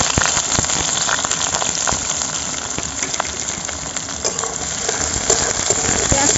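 Chopped onions fry in a pan for a home-style chicken curry, giving a steady, dense sizzle like rain on a surface, with scattered sharper pops and crackles throughout and no voices.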